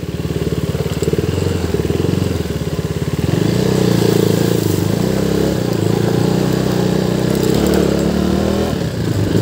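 A motorcycle engine chugs loudly and steadily, then grows rougher and fuller as it rides over a bumpy rural road near Bhojpur, Nepal, with rattling and clatter throughout.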